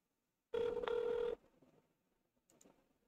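A phone line rings once as a call goes out to a voice AI agent. The ring is a loud, steady tone of under a second, followed by faint line noise and a soft click.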